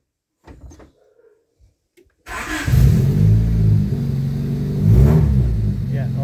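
A 1992 Honda EG car engine cranks and catches after a few faint clicks and a brief quiet stretch, then runs loud and close with a steady idle and rising revs, no talk over it.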